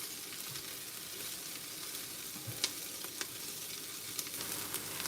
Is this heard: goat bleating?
no